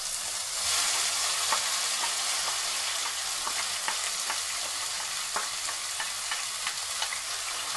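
Chili, garlic and onion sizzling and frying in a hot pan as they are stirred, a loud steady crackle with scattered pops throughout and no talk.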